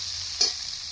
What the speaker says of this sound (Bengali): এবার আমি সবজিগুলো দিয়ে দিচ্ছি।